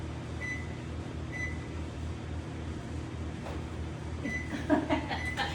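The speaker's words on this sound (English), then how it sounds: "we're going to put this in the microwave for about 30 seconds" A microwave oven hums steadily at close range, its low drone constant throughout, with a few faint beeps and clicks toward the end.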